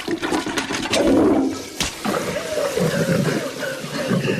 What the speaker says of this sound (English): Driver does manage to get a hand free to flush the toilet though